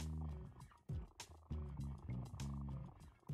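A cat in the video game No More Heroes purrs in a close, rhythmic, rumbling cycle that swells and fades several times, with no talking over it.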